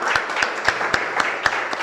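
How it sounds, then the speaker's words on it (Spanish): A church congregation claps in unison during worship, sharp rhythmic claps landing about four per second over a dense background of further clapping. "Dele un aplauso al que vive y reina."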